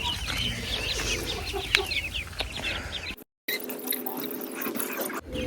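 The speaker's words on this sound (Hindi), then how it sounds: "यहाँ पे चूजे आ गए हैं" Chicks and chickens, with ducklings and a turkey nearby, clucking and peeping in a backyard pet enclosure, a dense close chorus of overlapping calls that cuts out briefly and then resumes.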